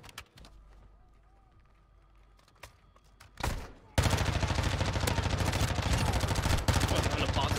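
Gunfire in the video game Call of Duty DMZ: quiet ambience first, then a sudden loud burst of rapid shooting from about four seconds that keeps going to the end, with occasional voice in the mix.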